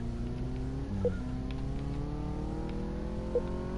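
Engine of a car accelerating in Car Mechanic Simulator 2018, a steady droning rev that rises in pitch after a quick shift, with two small clicks along the way.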